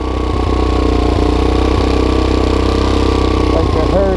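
A 150cc GY6-powered ATV engine idles at a steady, fairly high pitch, loud and close, with a constant droning hum throughout and a person speaking over it.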